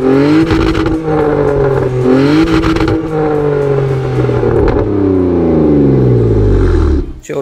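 Car fitted with a modified exhaust routed to four pipe outlets revs hard and continuously nearby, its engine note rising and falling in sweeping pulls before cutting off abruptly near the end.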